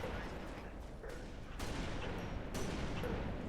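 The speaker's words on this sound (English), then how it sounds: "2 of those 4 shots actually hit their mark." Gunfire in Halo Reach: several broadband shot bursts, two loud reports standing out near the middle and later, over a constant noisy game backdrop.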